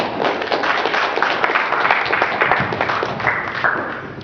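A round of applause at a Black history event for the president of the Bromley Heath Tenants Association, with steady, fairly close clapping from an audience lasting a few seconds.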